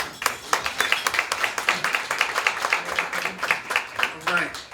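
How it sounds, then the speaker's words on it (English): Distinct rhythmic clapping from a modest audience at an award gala for autistic kids, individual claps clearly separated and fairly loud throughout. "one more round of applause, everybody"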